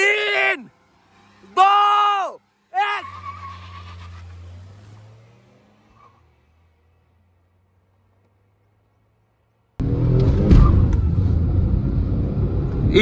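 Tata Altroz 1.2 petrol and Tata Nexon 1.2 petrol launch side by side in a drag race; a countdown of voices gives way to a long near-silence, then a loud, sustained engine roar as they accelerate.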